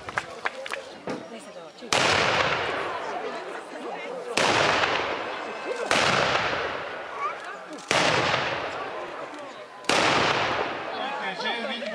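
A gunfire salute for the king at a reenactment of a 1642 event: five loud, sharp volleys roughly two seconds apart, each decaying into a rolling echo, with a voice heard before the first shot.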